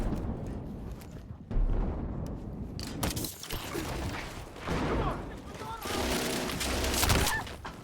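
Gunfire from a weapon in Battlefield, bursts of loud shots and booms rising and falling across the stretch, with a voice speaking in between.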